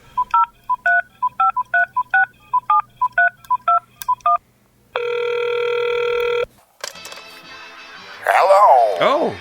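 A rapid series of telephone keypad dialing tones beeps in quick bursts, followed by a long steady ringback tone, a crackly line noise and a warbling electronic sound.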